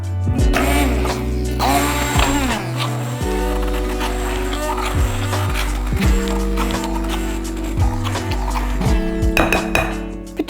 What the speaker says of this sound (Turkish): Şimdi böyle el blenderı yardımıyla onları ezeceğim